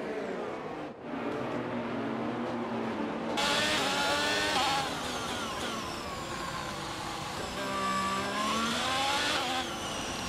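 Formula 1 race cars in the F1 22 video game at the Monaco round, a continuous high engine whine that rises and falls with gear changes and grows louder partway through, without speech.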